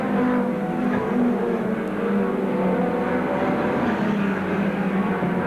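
Loud stock race cars roar past at Seekonk Speedway during the DAV Memorial race, a steady engine drone filling the whole stretch without any talk over it.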